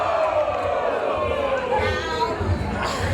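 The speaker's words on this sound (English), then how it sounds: "Crowd is rocking" A wrestling crowd at an AWE Culture Shock women's match roars steadily throughout, a dense wash of cheering and chatter with an announcer's voice running over the noise.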